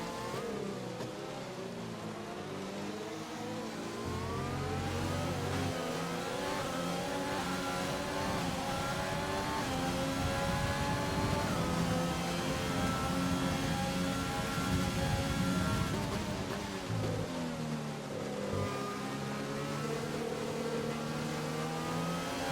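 In a racing video game, a race car engine drones loud and close as the car speeds into the pit lane, revving up and down in pitch throughout, with no talking.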